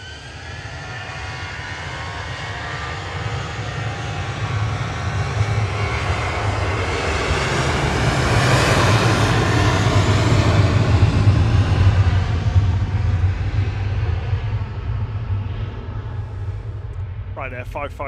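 Ryanair-registered Boeing 737-800 passing at Manchester Airport after rain, a broad jet roar that swells gradually to a peak mid-pass and then slowly fades, with a brief voice at the very end.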